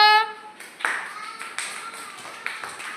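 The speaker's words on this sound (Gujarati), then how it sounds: "નિયમ માટે તાળી પાડો." Children clap briefly during an outdoor sack race, with a few scattered claps standing out after an opening tone and then fading.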